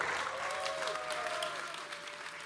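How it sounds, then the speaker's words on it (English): Conference audience at the Sub0 event in Bangkok gives sustained applause, a steady even patter of many hands heard from a distance at moderate volume, with faint voices underneath. "Let's give a huge round of applause for Gavin Wood."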